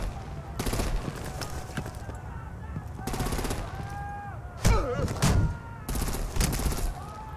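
Gunfire in the Batman: The Enemy Within game, repeated bursts of rapid automatic fire with heavier impacts and whooshing effects between them, loud and close, with voices speaking among the shots.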